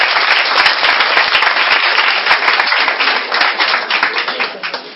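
A church congregation claps and cheers loudly and steadily for Jesus, dense continuous applause with sharp individual claps filling the whole stretch and tapering slightly at the end.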